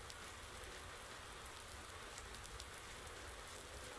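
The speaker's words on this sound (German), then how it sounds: "Das regnet." Steady rain in a video game patters softly and evenly on a surface, a continuous hiss of drops with no voices.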